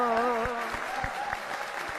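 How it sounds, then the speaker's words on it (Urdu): Scattered audience claps follow a sung Punjabi folk song at a live performance, with a sustained vocal tone fading at the start and sparse, irregular claps continuing underneath. "عوام کی تالیوں نے بتا دیا ہے کہ کون سا گانا ان کو سب سے زیادہ پسند آیا ہے"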